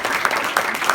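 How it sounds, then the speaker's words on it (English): A gathering at a mental health and development center in Henrico breaks into a short round of applause, a loud, dense, close burst of clapping. "Give them a great round of applause."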